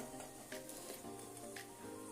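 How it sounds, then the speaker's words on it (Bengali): Soft, steady sizzling of pea kachori frying in oil, with a couple of faint utensil taps; quiet and without voices. "কচুরি ভাজাটা দেখিয়ে দিচ্ছি"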